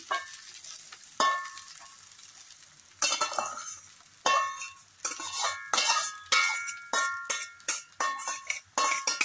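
Cooked rice for egg fried rice is tossed and stirred in a hot pan, with a utensil scraping and clinking against the metal in about a dozen quick bursts over a low sizzle, close and fairly quiet.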